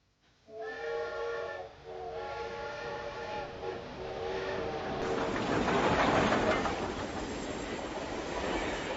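A presidential steam train sounds its whistle in a few long harmonic blasts, then rumbles and clatters along the rails with steady rising noise.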